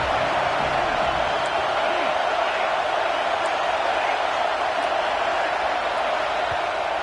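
Crowd noise from a football stadium on a fourth down, a steady loud roar that holds for the full stretch with no breaks, faint cheers within it.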